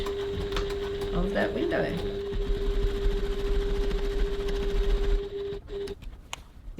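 A sewing machine runs steadily, stitching about 3 mm from the edge of a crossbody bag's window at a 3.1 stitch length, with a person talking over the whirring.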